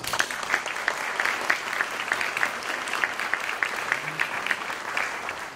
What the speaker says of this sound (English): we're going to give Rachel a round of applause